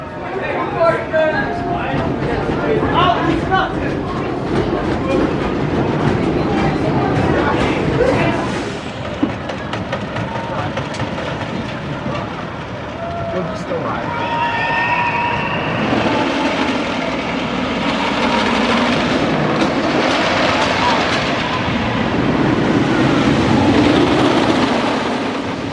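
A wooden roller coaster train with Gerstlauer cars, The Boss at Six Flags St. Louis, rattles and clatters loudly, with rumbling and rushing noise building and shifting, while voices talk and shout over it.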